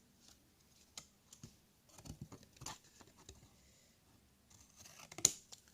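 Scissors snip paper tabs in scattered bursts with crisp paper rustles at close range, irregular with brief pauses, a sharper cut near the end; the scissors are worn and blunt.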